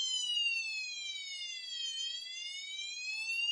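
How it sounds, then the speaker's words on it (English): A synthetic electronic siren from a ZenWheels toy car wails continuously, its pitch sliding down and then back up in one slow sweep, steady and fairly loud throughout. "And then we got crazy Siren Mode."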